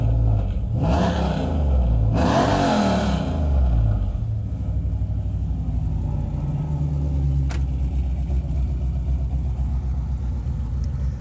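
A 2013 Jeep JK with SLP Loudmouth Trail Series mufflers revs hard twice, sharp rowdy bursts, then settles into a deep, loud, rumbling idle that runs steadily to the end.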